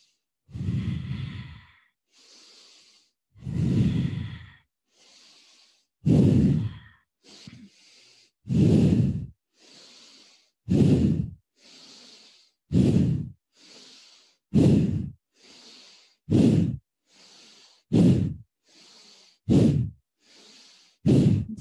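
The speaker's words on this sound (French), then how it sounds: "J'inspire et j'expire." Deep yoga breathing during an energising activation session, a slow repeated cycle of strong airy inhales and exhales, about a dozen close breaths with short pauses between them and no talking.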